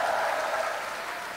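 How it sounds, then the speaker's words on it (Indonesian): Applause from a graduation audience of about 1,700 people filling a university auditorium, a dense steady wash of clapping that fades slightly toward the end. "Sekali kita beri tepuk tangan."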